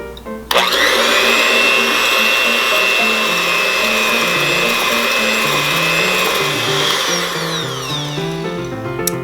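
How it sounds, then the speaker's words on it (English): An electric whisk beats a sugar mixture for matcha madeleines, starting abruptly and holding a steady, loud motor whine for several seconds before easing slightly. "I'm going to whisk this together until it gets lighter in color and quite thick"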